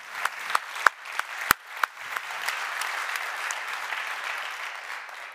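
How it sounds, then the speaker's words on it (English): Applause from a conference audience at the Neos Con 2022 talk: a few separate sharp claps at first, then a steady, moderately loud wash of clapping that continues evenly to the end. "they deserve a huge applause for really fixing the small and small and small issues"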